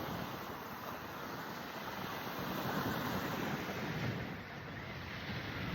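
Wind and ocean surf at Miami Beach form a constant, dense rush of noise, with gusts buffeting the microphone and a slow swell in loudness partway through; no one talks.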